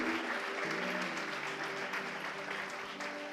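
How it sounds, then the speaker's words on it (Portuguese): A church congregation applauds continuously, dense clapping filling the whole stretch at a steady level, with a voice faintly audible beneath it. "você pode aplaudir o Senhor"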